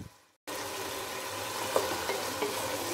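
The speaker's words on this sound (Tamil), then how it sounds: "இப்போது இந்த வெண்டைக்காவையும் இதிலே கொஞ்சம் நேரம் ஃப்ரை பண்ண போகிறோம்." After a brief quiet moment, a steady close sizzle of okra frying in masala starts and continues, with a few soft scrapes of stirring.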